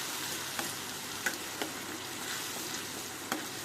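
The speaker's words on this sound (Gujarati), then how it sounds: "તો આવી રીતે વઘારી નાખવાનું" Green chillies crackle and sizzle steadily as they are tempered in hot oil for a Gujarati chilli sambharo, a continuous close frying hiss broken by a few sharp pops, with no talking.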